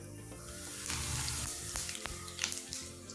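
Cumin seeds crackle and sizzle in about three spoons of hot oil, a steady close frying hiss with small pops and a brief stir, the tempering for a sweet potato sabji.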